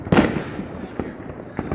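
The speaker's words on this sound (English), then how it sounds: "Look at those fireworks." Fireworks at a New Year celebration in New Orleans: several sharp explosive bangs and crackles at irregular intervals, moderately close, over a busy crowd backdrop.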